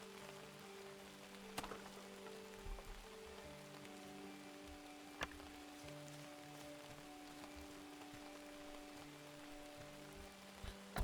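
Steady rain falling on surfaces in the video game Outbound, a soft continuous patter with a few isolated sharper drips, alongside a low steady ambient drone and faint game tones, with no voices.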